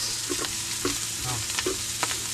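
Garlic, pepper and onion sauté in oil in a pan with a continuous sizzle, broken by several scraping stirs at irregular intervals. The sound is close, with no talk.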